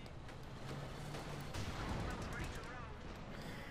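Anti-tank gun fire in a Company of Heroes 2 1v1 match, dense overlapping booms and cracks of German anti-tank guns and battle noise running continuously under a commentator's voice.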